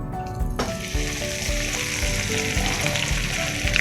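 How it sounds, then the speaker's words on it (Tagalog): Breaded pork chop for tonkatsu fries in hot oil with a loud, continuous crackling sizzle, close and steady throughout, broken by faint knocks of a utensil. "So, tara na guys, pritusin na natin."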